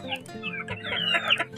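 Sick chicks cluck and peep in a run of overlapping high calls over a low background hum, fairly close and steady, with no talk.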